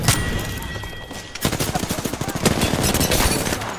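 Rapid gunfire from an online battle-royale shooter match, dense automatic bursts and overlapping shots rattling continuously with a heavier volley midway, close and loud, with faint voices under the shooting.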